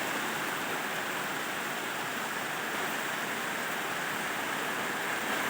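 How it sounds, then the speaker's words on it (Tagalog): Heavy rain pouring down outdoors, a dense steady roar of broadband hiss with no breaks, fairly faint overall and with no voices. "Oh, ulan."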